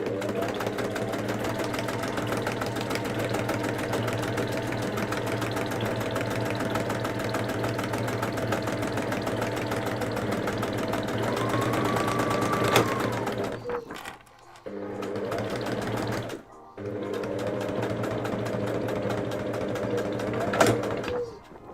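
A sewing machine stitches steadily and close up with a continuous mechanical whir, halting briefly twice near the end before running again, with no talk over it.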